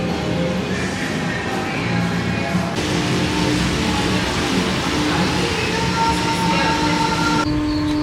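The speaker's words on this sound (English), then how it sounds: "Train." A theme park train at Europa Park rolls along its track, heard from on board as a continuous loud rumble with rattling and clickety-clack wheel noise, plus faint squeals.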